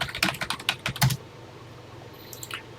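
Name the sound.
typing on a computer keyboard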